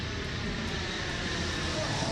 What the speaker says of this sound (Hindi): भारी भरकम सुपर हरक्यूलिस विमान उतरा